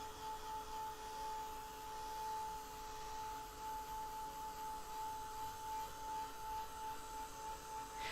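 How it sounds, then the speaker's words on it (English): Constant whirring blower drone with a steady electric hum from a craft heat tool for embossing powder, running nonstop at close range. "This is just a craft tool that's for heating up embossing powder and things like that."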